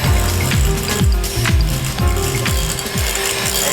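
An electric mixer beating whipping cream for a mango pudding, running loud and close with a steady mechanical whir and a rhythmic, repeating churning pulse, no voices.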